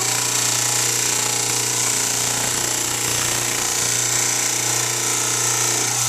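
A trim saw grinds continuously through soft stone, a loud harsh whine with a steady motor drone throughout, close by.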